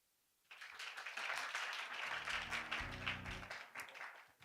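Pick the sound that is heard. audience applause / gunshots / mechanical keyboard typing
audience applause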